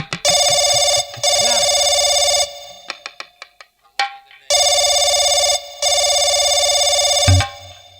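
A telephone rings in long repeated electronic bursts, two rings then a pause of clicking and tapping as if buttons are pressed, then two more rings, loud and close with no talk over them.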